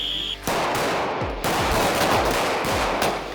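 Rapid handgun shots at a police shooting range ring out in a fast, loud string of sharp cracks with echoing decay, after a brief quiet start.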